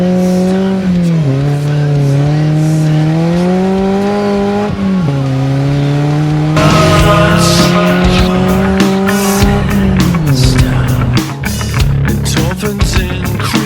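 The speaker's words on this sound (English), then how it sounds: "I got to show off my Alpha exhaust one time." Polaris Slingshot fitted with an Alpha exhaust, loud and close, revving in repeated rising pulls before accelerating hard with sharp gear changes and a raspy exhaust note, with tire noise audible as it drives off.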